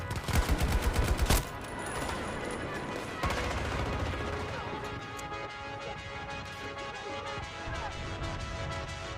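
Rapid bursts of video game gunfire crackle loudly in the first second and a half, then give way to a dense, sustained din of battle noise with scattered shots and impacts continuing underneath.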